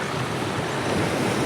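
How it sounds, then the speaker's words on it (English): Ocean waves crash against rocks along an outdoor shoreline, a steady, full wash of surf with wind noise rumbling through it, continuous and fairly loud for the whole stretch. "the waves crashing"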